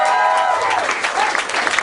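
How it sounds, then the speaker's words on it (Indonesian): A crowd at an Indonesian stand-up comedy night applauds in a short, loud burst of dense clapping mixed with a few whoops and raised voices. "Tepuk tangan dong"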